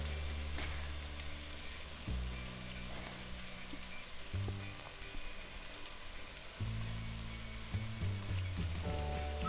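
Washed tofu, crushed and scrambled, sizzles in a frying pan over low heat, a steady soft crackle with intermittent low scraping as it is stirred and broken up.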